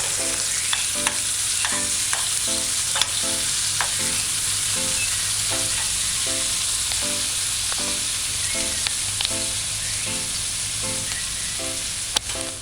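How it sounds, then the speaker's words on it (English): Chopped onions and fish chunks sauté for a fish and baked bean stew on a stove at medium heat, giving a steady close sizzle with regular scraping stir strokes about twice a second throughout. "Now we're going to saute the onions with the escoffish fish chunks."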